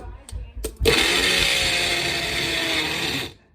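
A few clicks and thumps, then a Magic Bullet blender roars to life and runs loudly and steadily for a few seconds before cutting off.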